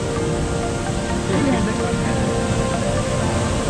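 Cold water rushing through a dam near Sundarijal waterfall, a loud, unbroken broadband roar with people talking over it.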